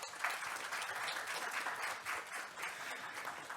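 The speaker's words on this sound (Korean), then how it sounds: "발표자들께 큰 박수 부탁드립니다" Sustained applause from a forum audience for a group of sixteen presenters, a steady dense wash of clapping at moderate volume with no talk over it.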